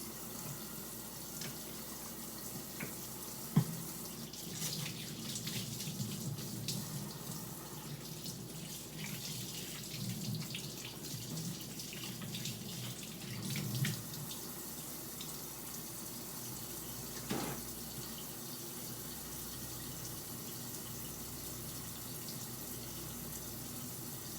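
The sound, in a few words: tap water running while washing hands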